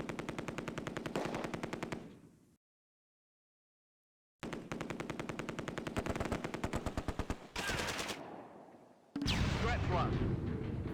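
MG42 machine gun fire in the Close Combat wartime strategy game, long rapid bursts of rattling shots with a brief silent gap, then heavier gunfire and blasts, loud and continuous.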